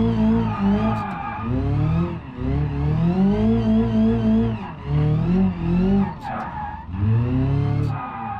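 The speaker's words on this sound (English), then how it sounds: "It is so hard to drift this one." A car drifts in BeamNG.drive, its engine droning and revving in waves while the tires squeal in long sliding bursts, loud and close throughout.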